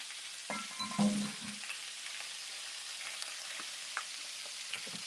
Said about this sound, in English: it's almost like stir frying